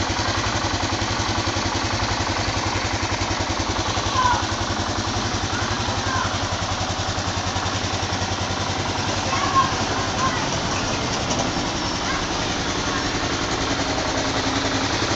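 An unmodified motorcycle engine, fitted with a new chain and fresh oil, runs at idle. It gives a steady, regular low thumping that stays even and nearby throughout, with a faint rattle and small bumps in level.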